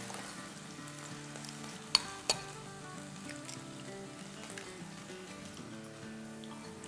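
Potatoes fry in a pan with a soft, steady sizzle and a couple of sharp clinks of a utensil, fairly quiet and continuous.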